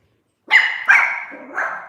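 Dogs in a home bark in three sharp, close barks spaced about half a second apart, standing out loudly against silence.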